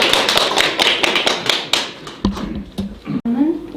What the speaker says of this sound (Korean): 박수 칩니다.